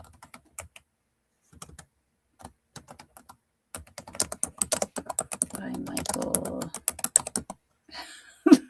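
Fingers tap on a computer keyboard in sparse clicks at first, then a quicker run of keystrokes, close and crisp, with someone speaking briefly near the end.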